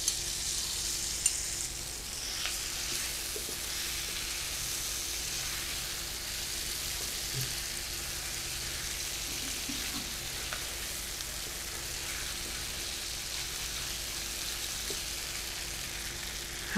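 Pre-fried chicken pieces go into a hot pan for a quick Chinese-style chicken curry and are stirred, giving a steady close hiss of frying oil with occasional scraping and stirring clatter throughout.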